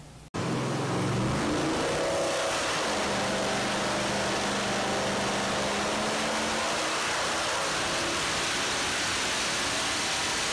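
A junkyard 5.7 liter Gen 3 Hemi V8 fitted with a Comp cam, revving: a loud, close, rough roar that climbs in pitch early on, then holds a steady high drone to the end, with no talking.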